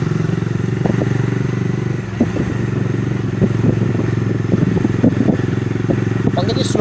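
A Bajaj Dominar 400 motorcycle rides along a hill road toward Mussoorie, its engine droning steadily with light clatter. Voices talk over the engine noise.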